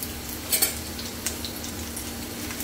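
Crushed garlic frying in a pan while a fish dish is cooked, giving a steady close sizzle with a couple of quick utensil clinks near the start.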